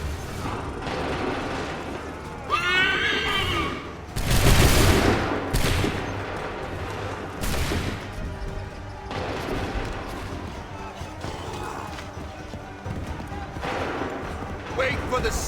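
Musket volleys crack out in a battle from Assassin's Creed III, with a big booming fusillade near the middle and scattered shots after it, layered over shouted commands and battlefield din.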